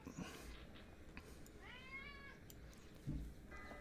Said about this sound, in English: Can you guys hear my cat? She's like super excited.